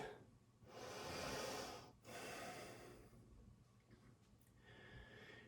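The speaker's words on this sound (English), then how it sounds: "Breathe, breathe, breathe" Deep breathing after a hot yoga posture, with two long audible breaths close to the mic followed by quieter, softer breathing and faint room sound.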